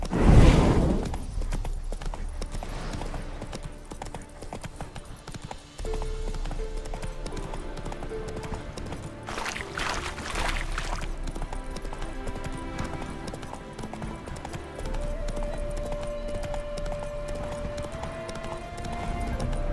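Steady clip-clop of horse hooves at a walking pace in the video game The Witcher 3, close and continuous, with a brief whinny and soft music underneath.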